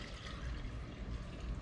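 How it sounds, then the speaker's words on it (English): Water runs in a steady stream into a container to start a herring and anchovy bait brine, a low, continuous splashing pour, close and fairly faint, with no talking. "So we're gonna get a little bit of water in here."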